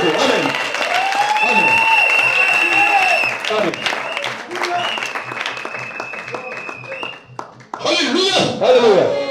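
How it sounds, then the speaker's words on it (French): A church congregation bursts into applause and clapping during a service, mixed with loud raised voices and cries that stay prominent over the crowd noise before a brief dip and a renewed swell. "Acclamons le Seigneur Jésus-Christ."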